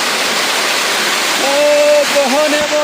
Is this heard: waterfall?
yes